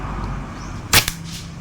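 A single sharp rifle shot cracks out during scope sighting-in at a 20-to-70-meter range, a short loud burst followed by a quick echo, standing alone against quiet background.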